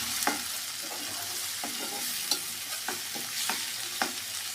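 Onion and garlic fry in a pan with a steady background sizzle, while a spoon scrapes and stirs in several short, evenly spaced strokes.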